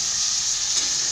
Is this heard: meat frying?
yes